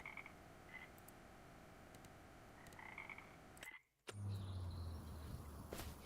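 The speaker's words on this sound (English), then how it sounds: "so we can hear the frogs, even though they're annoying as hell" Frogs croak at night, picked up by a voice-chat microphone during a multiplayer farming game, with repeated croaks and insect chirps over a steady noisy hiss that briefly drops out before resuming.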